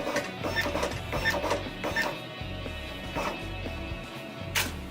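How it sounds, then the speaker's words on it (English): A Zebra RXi4 label printer printing and encoding five RFID tags in sequence, giving a near, rhythmic mechanical whirring and clicking with repeated feed pulses, a short sharp click near the end. "I'm going to send print and encode 5 tags"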